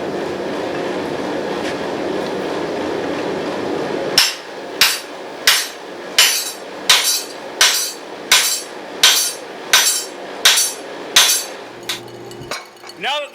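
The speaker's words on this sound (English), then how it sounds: "the next step is to go ahead and start drifting out, shaping the eye, and to start spreading out the lugs of the axe" A hammer drives a drift into the eye of a forged axe being made from shop scrap. After a stretch of roaring forge noise come about a dozen loud, evenly spaced metallic strikes close by, with no talking.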